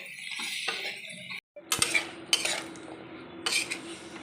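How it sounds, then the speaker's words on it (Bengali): Jackfruit seeds stirred in a pan with turmeric, chili and cumin-coriander powder, a soft sizzle cut by a brief silence, then a few bright clinks and scrapes of a spatula, close and alone. "হলুদ গুঁড়ো, লঙ্কা গুঁড়ো আর জিরে ধনে গুঁড়ো দিয়ে একটু ভালো করে নেড়ে চেড়ে কষে নেবো মশলাগুলো দিয়ে।"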